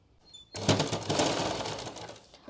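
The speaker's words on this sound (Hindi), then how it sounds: "वहाँ से शुरू किया है हमने सिलाई लगाना" A sewing machine stitches a folded salwar waistband slowly, starting after a brief quiet moment and holding a steady, close mechanical whir for about two seconds before easing off.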